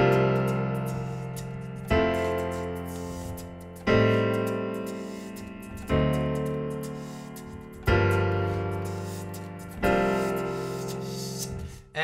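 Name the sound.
piano playing verse of a song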